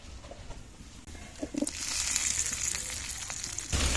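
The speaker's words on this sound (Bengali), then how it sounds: "এবার ভেজে রাখা আলুটা দিয়ে দেবো" Oil sizzles quietly at first, then swells into a loud, steady frying hiss as fried potatoes are added to the pan with crushed garlic, with a few clinks and stirring sounds.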